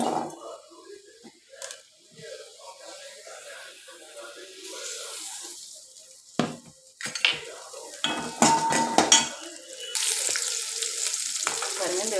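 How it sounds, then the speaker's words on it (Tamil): Onions sautéing in oil for brinjal curry, a low sizzle with occasional clinks and spatula scrapes, then a burst of louder clattering pan sounds and a stronger hiss toward the end, no talking. "எண்ணெய் கத்திரி செய்யறதுக்கு முதல்ல வெங்காயத்தை உணக்கிக்கலாம்"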